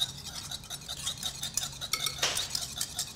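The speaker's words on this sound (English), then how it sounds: "Whisking the egg here." A mini whisk beats an egg in a small bowl in a home kitchen, making quick, light metallic clinks and scraping taps against the dish. The sound is close and fairly quiet, with no talking.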